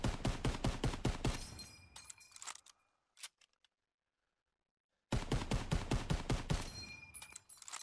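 An M1 Garand rifle in the video game Call of Duty WWII fires in two rapid strings of sharp, evenly spaced shots, loud and close. A short metallic clink and near-silence fall between the strings, and no one speaks.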